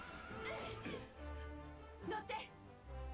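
A horse whinnies in the video game Dragon Quest XI S, its short neighs heard faintly beneath excited talking from players.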